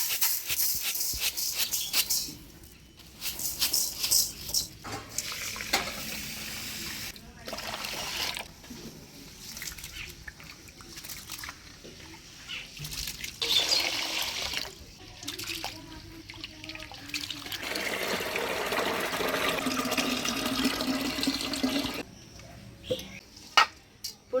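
Rice for jeera rice is washed by hand in water, with intermittent sloshing, swishing and dripping bursts that come and go over about twenty-four seconds, close by, with quieter pauses between.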